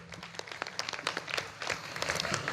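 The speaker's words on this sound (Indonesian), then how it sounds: "Tepuk tangan untuk SMA PGRI" An audience at a Year 12 farewell ceremony for a high school claps, starting as scattered individual claps and quickly thickening into moderately loud, uneven applause, with no talk over it.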